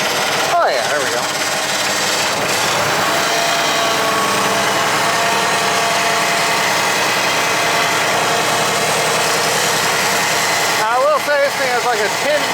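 A Poulan Pro riding mower's engine runs loud and continuous with a rough, rattling drone throughout, and a voice talks over it in places.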